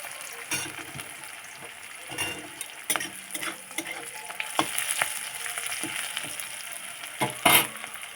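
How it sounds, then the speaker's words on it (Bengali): Onion frying in oil in a pan for a home-cooked mud fish curry, with a low steady sizzle, occasional spatula clinks and scrapes, and a sharp louder stir near the end, with no voices. "পেঁয়াজটা ভালো করে ভেজে নেব"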